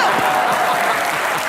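Loud studio audience applause on a comedy show, a thick continuous roar of clapping with crowd noise underneath, close and steady for its short length.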